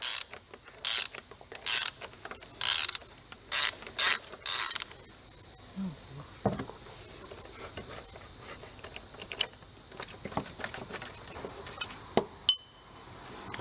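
A wrench loosens the oil drain plug on a Peugeot 407, giving a run of sharp, evenly spaced ratcheting clicks up close, followed by scattered quieter metallic clinks and creaks, with no talking.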